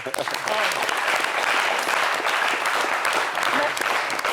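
A studio audience at a Friday evening TV entertainment show with Alpha Blondy gives loud, sustained applause, a dense, even roar of clapping with voices mixed in throughout.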